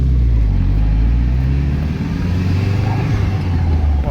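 A Marcos Mantaray 2.0 Turbo Spider drives off, its engine a loud, close, low rumble that holds steady with slight swells as it pulls along.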